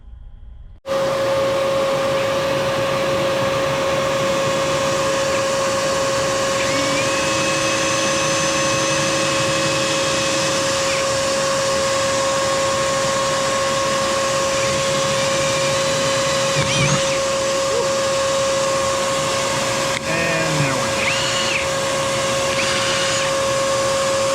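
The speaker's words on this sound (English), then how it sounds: "You want to hold the vacuum?" A vacuum cleaner runs continuously for a long stretch with a steady high whine and broadband roar, starting abruptly after a quiet second.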